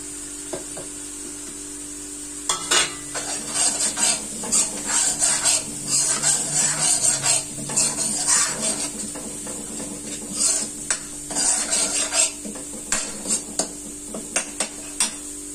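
Chickpeas and spices, including amchur, red chilli, coriander powder and chana masala, sizzle in a pan while a spoon stirs and scrapes, clinking against the metal in loud, irregular bursts close by with no talk.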